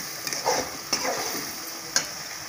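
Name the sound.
stirring masala for egg fry in a pan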